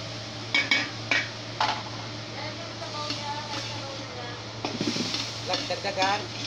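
Squid adobo sizzles in a pan as soy sauce is poured in, with steady frying hiss, spoon scrapes and clinks against the pan, close and fairly loud, a voice talking briefly.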